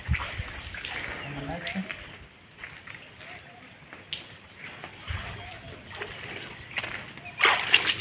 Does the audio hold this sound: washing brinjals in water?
yes